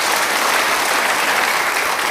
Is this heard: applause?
yes